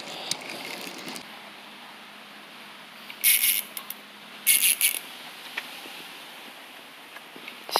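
A small fishing reel being cranked on a miniature LEGO fish pond aquarium, heard as two short bursts of faint mechanical clicking in an otherwise quiet room.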